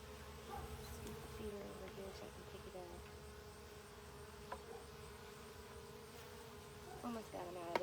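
Honey bees swarm around a hive feeder in a close, continuous buzzing drone. The buzz stays steady throughout, with a few small clicks and knocks near the end.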